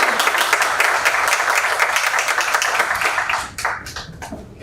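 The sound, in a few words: audience applause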